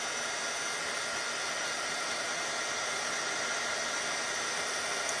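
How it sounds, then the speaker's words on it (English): A heat tool blows hot air to melt white embossing powder on a stamped card strip, a steady loud whooshing fan roar that holds constant from start to finish. "I'm gonna hit it with a heat tool until it's nice and shiny"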